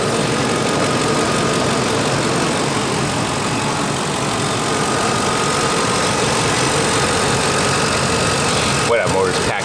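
A cheap old Ford truck bought for $200 sits with its engine running in a steady, close, loud idle rumble that carries on without a break. Someone talks over it.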